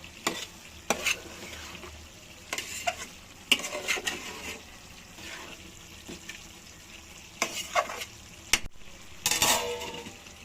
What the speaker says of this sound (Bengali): আরো কিছুক্ষণ এভাবে কষিয়ে নেব, তারপর পানি দিয়ে দেব।